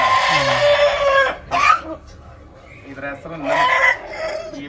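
A chicken clucks and squawks up close in several loud bursts, with a voice speaking briefly in between.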